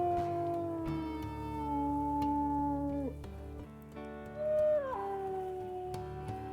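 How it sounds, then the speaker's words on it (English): Wolves howl in the video game WolfQuest, several long, sliding voices overlapping and rising and falling together in a sustained chorus, close and clear over a low background drone. "Oh my goodness, Cattail, we're howling already, huh?"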